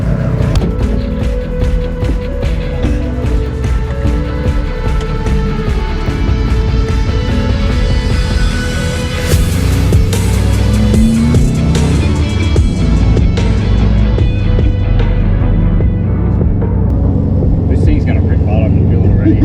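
A built Subaru WRX GC8 drives hard on a race track at Luddenham Raceway, its engine a dense, loud, steady roar with shifting pitch throughout, heard from inside the car.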